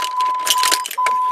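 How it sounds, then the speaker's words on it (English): Car keys jangle with bright metallic clinks while being turned in the ignition, close and fairly loud, alongside a steady electronic tone from a diagnostic scanner setup. "we're going to turn our key, if I can find my keys, to the number 2 position"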